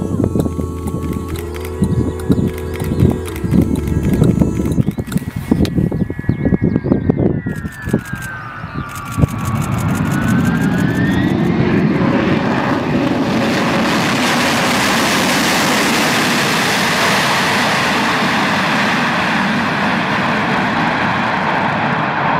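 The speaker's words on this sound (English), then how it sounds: "this plane swirl a lot of dust after landing." A propeller plane lands on a dirt runway, raising dust. Its engine drones loudly, then the pitch sweeps through a changing whine before a broad rushing roar takes over for the rest. A voice is heard early on.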